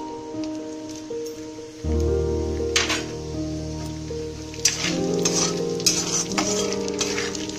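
Whole spices, bay leaf, dried red chilli, cardamom, cloves, cinnamon and cumin, tossed into hot oil, starting a loud crackling sizzle with scattered pops and spits over a steady tonal hum.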